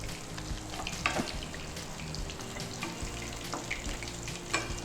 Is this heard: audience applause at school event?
no